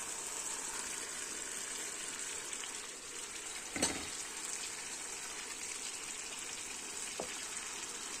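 Beef liver sizzles loudly in a pan with tomatoes, a dense, constant frying hiss broken by one brief louder splash near the middle, no speech.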